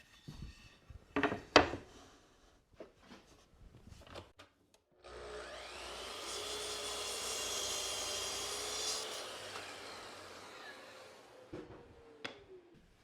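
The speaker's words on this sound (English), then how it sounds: "Next, I'll set up a stop block and cut all the parts to length." A saw cuts wooden face frame parts to length against a stop block for a planter box, one sustained whining cut lasting several seconds, framed by quieter handling knocks and clatter of wood before and after.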